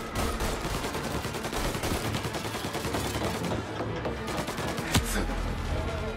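Rapid bursts of gunfire from Mafia: Definitive Edition during a shootout at a hotel, dense overlapping automatic shots with a sharper single blast near the end, loud and continuous.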